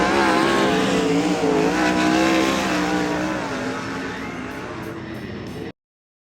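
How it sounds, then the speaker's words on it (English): World of Outlaws sprint cars in a heat race at Keller Auto Speedway scream past with loud, high-revving engines and shifting pitch, the roar gradually fading before cutting off abruptly near the end. "8 cars, 8 laps for the second World of Outlaws NOS Energy Drink Sprint Car Series Heat Race at the Tom Tarlton Classic."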